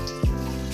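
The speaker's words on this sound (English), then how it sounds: "We're gonna put the water in." Lukewarm water pours into a bowl for Italian bread dough, a steady close-up flowing sound with a brief gurgling splash partway through and no talking.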